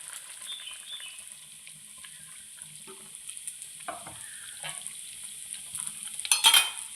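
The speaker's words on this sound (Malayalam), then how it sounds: "ഇതിലേക്ക് ബാക്കിയുള്ള അരപ്പും കൂടി ഒഴിച്ചു കൊടുക്കാം." Coconut paste poured into a mango fish curry simmering in a clay pot, giving quiet scraping and stirring sounds over low bubbling, with a brief louder clatter near the end and no talking.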